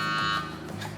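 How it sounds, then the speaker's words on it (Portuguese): Oven timer alarm going off in a kitchen while bread bakes, a loud electronic buzzing tone that sounds briefly and then cuts off into quieter room noise. "Já posso tirar do forno, o alarme tocou"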